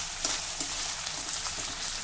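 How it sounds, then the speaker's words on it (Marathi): Vegetables for pulao frying in a pan give a steady, close hiss of bubbling oil with faint crackles, continuous and alone, with no voices. "तुम्ही बघू शकता ह्या भाज्या मस्त फ्राय झाल्या आहे."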